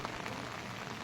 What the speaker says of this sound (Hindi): बारिश रुकने का नाम नहीं ले रही है